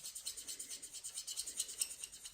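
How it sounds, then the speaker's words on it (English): An alcohol marker scrapes back and forth on cardstock while shading a handmade birthday card, a soft rhythmic rasp of quick strokes close to the mic with no talking. "Makes a nice scraping sound."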